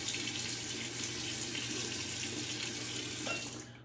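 Hot water runs steadily from a bathroom tap during a shave, a soft continuous splashing hiss at moderate distance that fades out at the very end, with no talking.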